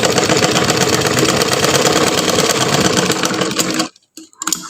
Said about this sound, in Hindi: हमने पहली सिलाई लगाई